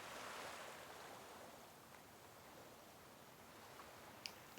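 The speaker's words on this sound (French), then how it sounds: "le bruit des vagues" Soft, distant surf rolling in a steady wash, with a faint breeze and a couple of small ticks near the end.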